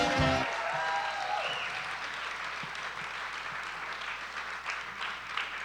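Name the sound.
audience applause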